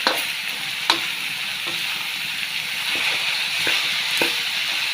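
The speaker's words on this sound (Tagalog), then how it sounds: "Iigisa muna natin siya." Cabbage and pork stir-fry in a hot pan with a loud, steady sizzle, broken by occasional scraping knocks of a utensil stirring the food, close and without talk.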